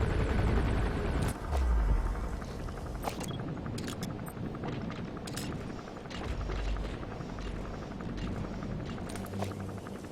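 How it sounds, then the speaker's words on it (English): A helicopter lands in a video game, heard as a dense low rumble and mechanical drone that runs on for about ten seconds, overlaid with sharp gunfire-like cracks and bursts. "There's a chopper landing."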